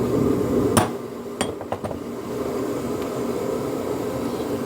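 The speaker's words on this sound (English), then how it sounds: "I'm just going to give it a little tap here" A hammer taps a brass casting to mark its center line. There are a couple of sharp metallic clicks and a few lighter ticks over a steady background rumble in a workshop.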